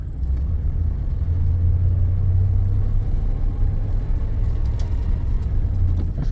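An older Chevrolet Impala rolls slowly through a lot, a low steady engine rumble heard from inside the car, continuous and fairly loud with no talk.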